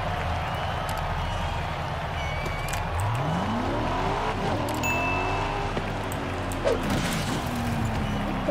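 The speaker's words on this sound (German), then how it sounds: "Mein Auto." Car engine in the racing video game Forza Horizon 5, rising and falling revs with sweeping pitch changes as the car accelerates and shifts, set against a steady background of game sounds.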